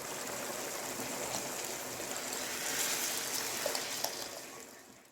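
Chicken stock pours steadily into a pot, a continuous splashing rush that swells slightly midway before tapering off.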